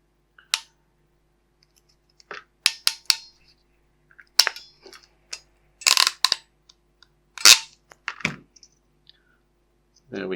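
A KF CPTEC crimping tool squeezing insulated terminals gives sharp, separate metallic clicks and snaps in short bursts, close and crisp against near silence.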